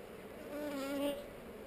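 Honeybees buzz around a hive on heather, a faint steady drone that swells briefly in the middle as a bee passes close, then settles back.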